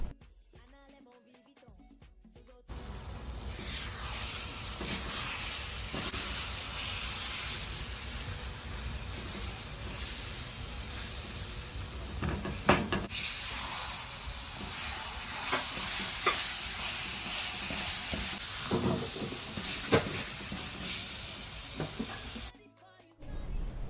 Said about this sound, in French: renversez la purée obtenue dans une poêle et portez au feu moyen en remuant régulièrement